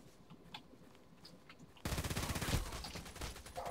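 Rapid automatic gunfire in Contract Wars starts abruptly after a quiet stretch, a loud dense burst of shots that continues to the end.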